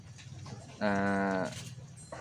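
A single goat gives one loud, sustained bleat at a small goat farm, rising clearly above a low murmur of background noise.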